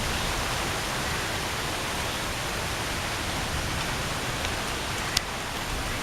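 Heavy rain with a hailstorm pours down at Mae Taeng in Chiang Mai, Thailand, a dense, steady hiss of drops on surfaces filling the whole clip with no voices.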